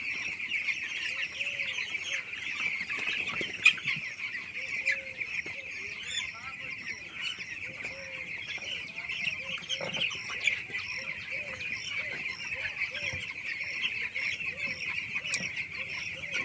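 A flock of twelve-day-old broiler chickens in a poultry farm shed, a dense continuous chorus of soft peeping and clucking calls over a steady high hum, moderately faint and without speech.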